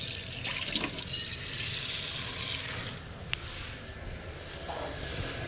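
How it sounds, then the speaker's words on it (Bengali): Water pours into a pan of dried fish being cooked down with spices, a continuous close rush of liquid that swells and then settles into a steadier trickle, without talk. "আমি পানি অ্যাড করে দিলাম।"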